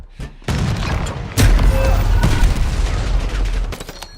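Black Ops 6 combat: a loud close grenade-like boom followed by sustained rapid gunfire and reverberating shots, with brief voices in the mix.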